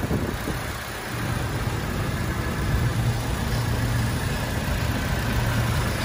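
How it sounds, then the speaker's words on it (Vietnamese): A 2006 Toyota Innova G engine idling smoothly, a steady low mechanical hum with a faint whine, close and even throughout, with no voices. "Tiếng máy nổ rất là êm."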